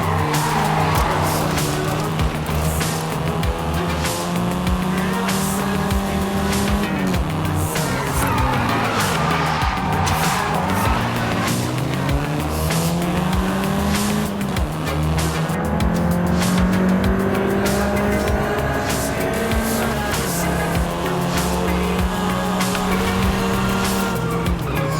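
Race car in Forza Horizon 5 driving hard around Mexico, engine revving up and down through gear shifts with repeated tire squeals and skids, loud and continuous throughout.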